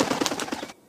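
Wings flap rapidly as a bird flies away, used as a sound effect in a children's story. The burst is short, close and fairly loud and cuts off abruptly, with no voices.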